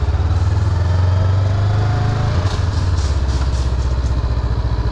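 A 2022 Honda 500cc motorcycle idles at a stop sign, its engine producing a steady, loud, close low throb with even pulsing and slight wind noise over the microphone, no talking.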